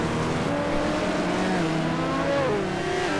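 Several GT1 race cars howl together at the A1 Ring in a racing video game, engines droning and rising in pitch as they jostle closely through the opening lap, a loud continuous roar with shifting tones.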